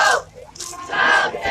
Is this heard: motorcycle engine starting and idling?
no